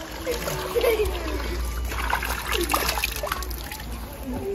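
Water splashes and trickles from a newly installed hand pump, an uneven gush heard close by beneath ongoing talk.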